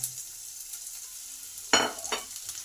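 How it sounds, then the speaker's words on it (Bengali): Chopped onions drop into a pan of frying garlic, a quiet background sizzle that swells into a sudden burst of hiss and crackle, then settles into frying with a second brief flare. "এই সময় পেঁয়াজ কুচি আছে সেটা দিয়ে দিলাম"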